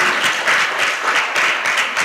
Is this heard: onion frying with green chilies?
no